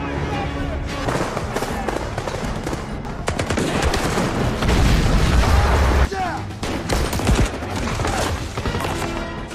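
Bombs exploding at a bridge against Nazi tanks in a Soviet war film: a loud, continuous barrage of blasts and rapid gunfire, with a voice speaking over the battle.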